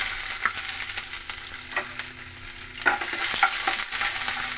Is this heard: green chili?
yes